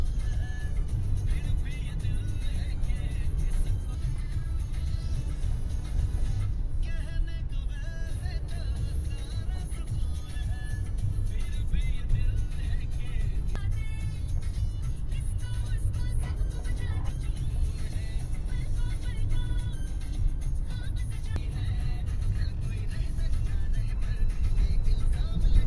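A car rolls slowly near Maracas beach in Trinidad, its steady low engine drone continuous and close, with faint rustles and occasional outdoor sounds over the top.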